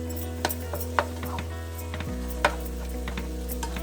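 Ground meat and potatoes sizzling steadily in a pan for picadillo, with a constant close frying hiss, intermittent clicks and scrapes of a utensil stirring against the pan, and a low appliance hum.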